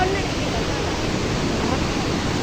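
Floodwater rushes across a broken road near the Kalawewa reservoir in Sri Lanka, producing a loud, close, continuous roar that never lets up.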